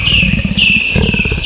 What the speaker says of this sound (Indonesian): seekor macan tutul.